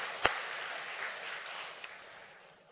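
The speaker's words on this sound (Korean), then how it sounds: "하나님께 영광의 박수 올려드립니다" Soft applause from a church congregation during a Sunday service, a faint distant wash of clapping that fades gradually, with two sharp isolated knocks near the start and middle.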